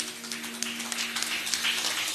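Church congregation applauding at the close of a service, a soft, steady wash of clapping with a few sharper individual claps, somewhat distant, over a faint low electrical hum.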